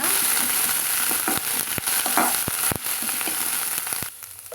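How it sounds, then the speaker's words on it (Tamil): Cleaned drumstick flowers sauté in a hot pan with steady oil sizzle, broken by repeated scraping stirs, close up, easing off at the end. "இப்போ வந்து நம்ம க்ளீன் பண்ணி வச்சுக்கிற முருங்கைப்பூவை இதில் சேர்த்திக்கலாங்க நல்லா வதக்கி விட்டுக்கலாங்க"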